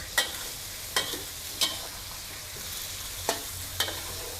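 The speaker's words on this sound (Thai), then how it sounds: "ผัดให้ไข่เซตตัว จะใช้วิธีการพลิกกลับไข่แบบนี้นะ" Eggs stir-fried in a pan with seafood for a dry sukiyaki stir-fry, a steady soft sizzle punctuated by five sharp spatula scrapes as the egg is flipped to set, close with no talking.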